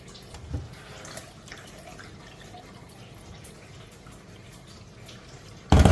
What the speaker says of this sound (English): So we are washing off all the starch.